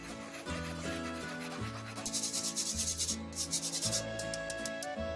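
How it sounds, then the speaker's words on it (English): A spoon pushes and rubs lemon glaze through a mesh strainer, giving a steady scraping, rasping sound in repeated strokes, fairly close and alone, with a gentle background tone running underneath. "using a spoon or spatula, whatever you have, just start working it through the strainer"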